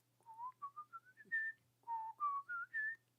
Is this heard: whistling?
yes